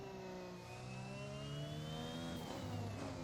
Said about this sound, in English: Let's short shift into 5th gear here.